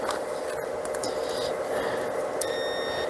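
A thin, steady electronic beep from a multimeter continuity test on model train TMCC wiring starts near the end and holds over faint background hiss.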